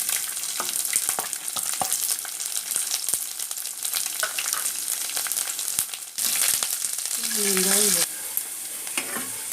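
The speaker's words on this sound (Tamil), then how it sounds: "பூண்டு கொஞ்சம் வதங்கட்டும்." Garlic sautéing in hot oil in a pan with mustard seeds and curry leaves for Tamil poondu kulambu, a steady close sizzle with scattered crackles and pops, briefly louder near the end as stirring scrapes the pan.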